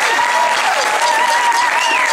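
A concert audience applauds a jazz drummer, dense sustained clapping throughout with a whistle or cheer riding on top, loud and close.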